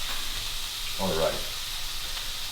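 Onions and mushrooms brown in a pan with extra lean ground turkey, a faint steady sizzle with a brief louder stirring burst in the middle.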